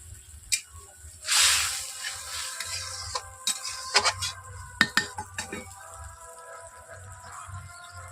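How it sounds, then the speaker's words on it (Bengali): A brief hiss and sizzle as a little water is poured into a pan of half-boiled green vegetables, flat beans among them, followed by light clinks and scrapes of cooking utensils against the pan. "সবজিগুলো হাফ সেদ্ধ হয়ে গেছে, তার জন্য আমি সামান্য জল দিয়ে দিলাম"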